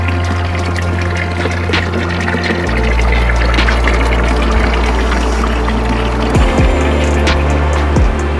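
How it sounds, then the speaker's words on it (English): A small waterfall in a botanic garden pours and splashes steadily, a continuous rushing flow close by, with a low mechanical hum underneath. "little waterfall."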